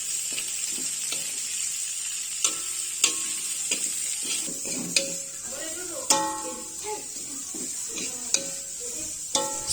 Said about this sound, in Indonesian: kita simpan kol dan wortelnya ke dalam wajan. Kemudian kita aduk-aduk sampai semuanya tercampur secara merata